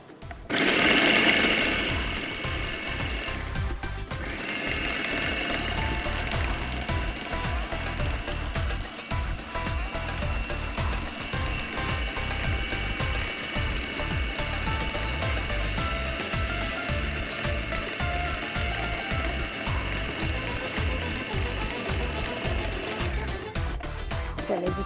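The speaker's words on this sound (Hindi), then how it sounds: "कीमे को आपने बहुत बारीक पीसना है" A grinder or chopper mincing keema very finely runs loud and steady for the whole stretch after a brief start, with its motor whirring and blades churning continuously and no talk over it.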